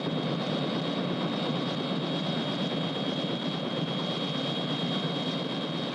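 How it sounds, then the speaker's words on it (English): A steady, loud helicopter engine drone with a constant whine holds throughout as the helicopter hovers or flies nearby. "isn't that your helicopter over there?"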